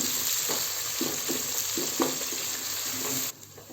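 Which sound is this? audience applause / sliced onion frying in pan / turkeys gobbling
sliced onion frying in pan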